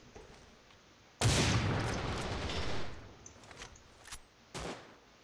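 Video game gunfire: a loud burst of rapid shots lasting over a second, then a few sharp isolated shots.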